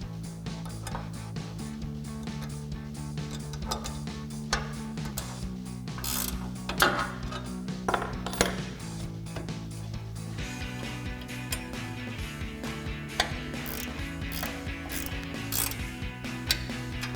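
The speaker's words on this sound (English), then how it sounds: "using the provided hardware, we can use an Allen key and a 10mm wrench." Hardware on a Barricade Reaper HD front bumper for a Toyota Tacoma being tightened with an Allen key and a 10mm wrench, close and steady, with repeated metallic ratcheting clicks and scraping over a low hum.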